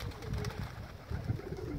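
Pigeons cooing close by in a rooftop dovecote, low repeated throaty coos in two soft bursts with no talk.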